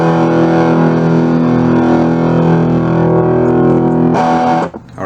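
An electric guitar through an Akai Shred-o-matic tube distortion pedal, its expression pedal sweeping gain from overdrive to full distortion, holds a thick, sustained chord, its tone growing harsher, then cuts off abruptly near the end before a brief restrike.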